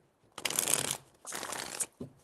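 A deck of tarot cards is shuffled in two long riffling bursts followed by a brief tap, close and crisp, with no one speaking.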